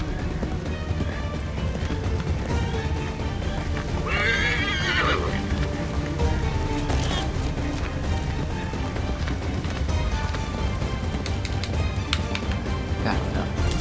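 A horse whinnies loudly over a continuous patter of galloping hooves in Assassin's Creed III, with thuds and clatter mixed into the busy, steady background.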